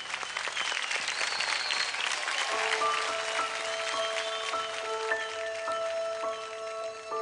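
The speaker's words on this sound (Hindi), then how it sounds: "तालियां।" An audience applauds on a televised singing competition stage, a sustained burst of clapping with bright sustained musical tones ringing over it.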